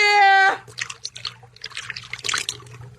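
Radio drama effect of blood being poured, a close trickling, dribbling liquid stream in irregular spurts after a brief sustained tone, with a low hum underneath.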